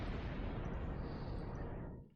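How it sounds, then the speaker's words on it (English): Explosions in the space combat game Star Trek Online make a dense, sustained roaring rumble that is steady for about two seconds and then fades out. The blasts are fairly quiet and muffled, with no voices present. "Oh, explosions."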